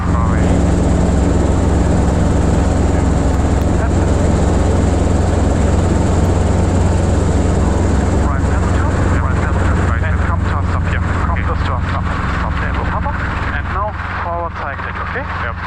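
Helicopter at Long Beach airport holding west of runway 30, a steady loud engine and rotor drone filling the clip, with radio and cockpit talk over it.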